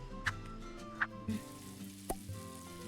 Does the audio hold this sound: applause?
no